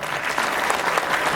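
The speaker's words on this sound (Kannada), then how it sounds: "ಜೋರ್ ಚಪ್ಪಾಳೆ" An audience bursts into loud, dense applause that stays full and close for the whole moment, with a faint voice under the clapping.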